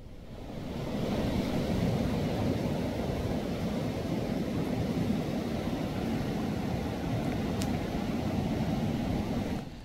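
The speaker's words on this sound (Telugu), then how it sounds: "సీలేరు నది ఉప్పొంగడంతో డొంకరాయి జలాశయానికి భారీగా వరద నీరు వచ్చి చేరుతోంది" Floodwater from the overflowing Sileru river, swollen by heavy rains in Andhra Pradesh and pouring into the Donkarayi reservoir, making a loud, steady, unbroken rush that carries on throughout with no voices.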